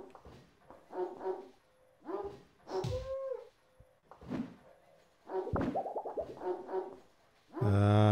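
Dogs in the video game Little Big Adventure 2 bark and yelp in a series of short, spaced outbursts, some whining and rising in pitch, ending with a louder, harsher burst of sound.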